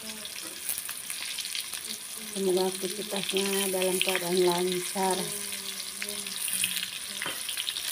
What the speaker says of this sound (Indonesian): ini goreng tahunya juga udah jadi itu ya.